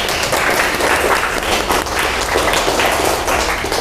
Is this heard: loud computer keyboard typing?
no